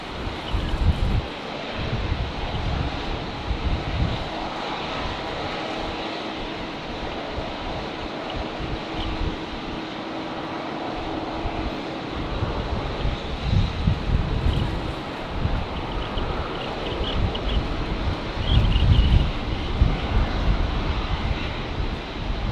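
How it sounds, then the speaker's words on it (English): A Jetstar airliner arrives at Brisbane Airport on a windy day, its engine roar a steady broad rumble that swells and ebbs, loudest near the end, with gusting wind mixed in and no talk. "So Jetstar 562 arriving here from Melbourne."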